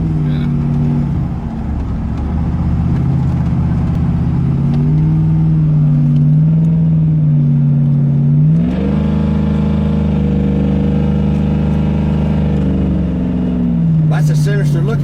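Joe Gibbs Silverado truck engine driving on a street, a loud steady mid-pitched drone that rises as it revs near the middle and eases back, close and continuous throughout.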